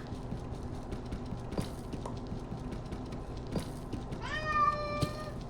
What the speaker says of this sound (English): We love our cat. He is loud.